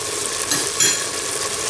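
Soaked chickpeas tumble into a sizzling pan for an Algerian dish, a steady frying hiss with two brief louder bursts of stirring and settling, close by, without talk.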